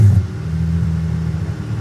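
A Pagani Zonda Tricolore drives past at a car show, its engine a loud, steady low rumble that holds throughout without sharp revs.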